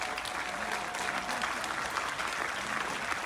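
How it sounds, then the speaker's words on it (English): Passengers on an Alaskan cruise applaud a jungle cake, a dense, even wash of clapping from a large group that runs steadily throughout. "Round of applause, yes."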